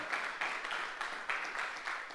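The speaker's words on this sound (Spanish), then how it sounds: "Dale un aplauso a la gloria del Señor" Church congregation applauding for the glory of the Lord, a steady wash of many hands clapping in repeated swells, moderately loud and without talk.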